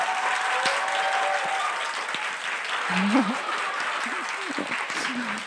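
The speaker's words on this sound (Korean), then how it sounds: "우리 격려의 박수, 축복의 박수" Church congregation applause of encouragement during a Friday revival prayer meeting, steady, even clapping throughout with a few voices calling out over it.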